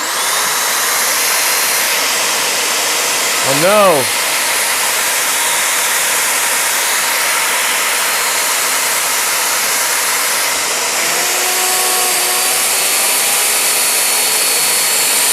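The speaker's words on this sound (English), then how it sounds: "Turn on the vacuum." A shop vacuum starts up in a build lab and roars steadily and loudly throughout, with a short burst of rising whistling tones near the start and a person briefly exclaiming over the machine's noise.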